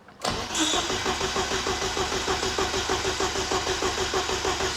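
A car engine under warranty diagnosis is started with the key, a sudden loud catch followed by a steady rough, rhythmic running with a faint knocking pulse, close and continuous with no voices.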